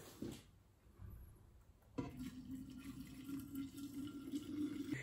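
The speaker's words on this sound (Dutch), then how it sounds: "Twee liter kokend water." Two liters of boiling water pour steadily into a container for brewing kombucha, a continuous close splashing fill that starts abruptly and runs on without a break.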